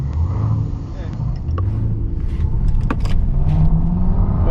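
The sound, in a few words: Tesla Plaid and Corvette at drag race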